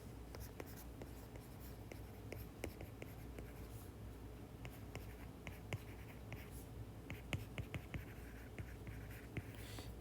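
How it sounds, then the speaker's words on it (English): Chalk or a marker scratches steadily on a board during a physics lecture, a continuous run of faint taps and strokes with no talking. "I guess we can write some of these down"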